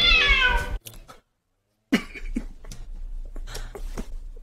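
A cat meows loudly with a drawn-out, falling cry, then after a brief silence makes several shorter, fainter vocal sounds amid background noise.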